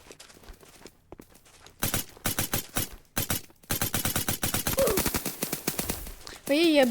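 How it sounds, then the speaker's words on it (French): Rapid bursts of automatic gunfire from a Roblox shooting game crackle in quick repeated volleys, separated by short gaps, with a brief synthetic tone near the end. "Et je tire, les balles elles vont pas là où je vais."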